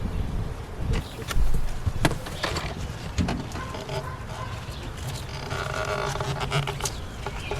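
Bees buzzing around a cavity nest beneath a bath during a trap-out removal, a steady insect drone with louder close passes and faint handling knocks over a constant hum.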